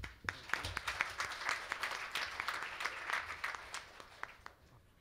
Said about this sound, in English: Please join me welcoming with a big applause.